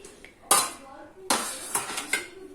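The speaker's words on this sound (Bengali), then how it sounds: "ঢেলে দিই মাছের ঝোলটা।" Rohu fish curry is poured out of a pot, with sharp metallic clanks and scrapes of utensils against the pot in a few distinct bursts, close and fairly loud, with no talking.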